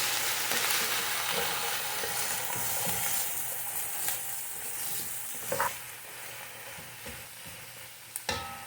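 Chicken feet sauté for adobo in a hot pan, a steady loud sizzle with scraping stirs and a few sharp clinks of the utensil against the pan near the end.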